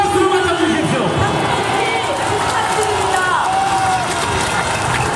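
Outdoor crowd at a Liberty Korea Party street rally, steady loud applause and cheering mixed with crowd noise and shouting, continuing through the whole stretch.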